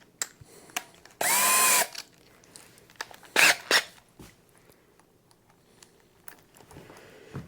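A power drill whirs in a short burst driving a screw into a computer chair without pre-drilling, then two briefer bursts follow, with clicks and handling noises around them in a quiet room.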